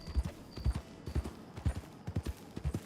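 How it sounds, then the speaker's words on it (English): Horse hooves in Red Dead Redemption 2 beat out a steady galloping clip-clop rhythm, close and fairly loud, with repeated quick strikes and no talk over them. "Run, horse, run"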